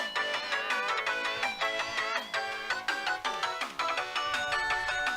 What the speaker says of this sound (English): The ringing that suddenly interrupted our conversation was coming from Daru's phone.